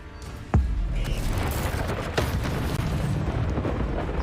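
A Confringo blasting spell goes off in Hogwarts Legacy with a sudden loud boom, then a dense rumbling crackle of combat that stays steady to the end.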